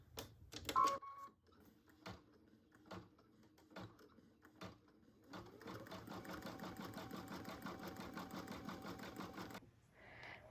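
Embroidery machine stitching an in-the-hoop stuffed bear, a steady rapid mechanical whir and needle chatter that starts after a few scattered clicks and runs continuously at close range, then stops near the end.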